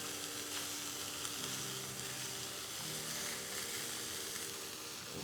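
Beef rouladen searing in a hot pan, giving a steady, dense sizzle that holds at even loudness throughout, with faint tonal background hum and no talking.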